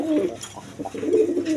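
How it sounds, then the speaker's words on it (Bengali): Large high-flying pigeons, a paired male and female, coo in low, throaty rolling phrases that repeat closely one after another, near and clear, with no voices. "খুব সুন্দর কবুতর, হাই ফ্লাইং, একদম বিগ সাইজের নরমাদি"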